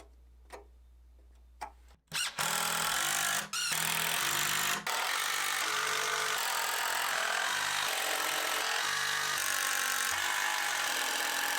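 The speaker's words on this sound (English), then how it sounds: "Now I can find the center mark on this cross member here, and I can screw this into that cross member." Cordless drill or impact driver driving screws into a wooden cross member of a basement storage shelf frame, a few faint taps and then a loud, sustained whirring run lasting several seconds with brief pauses, close up and alone.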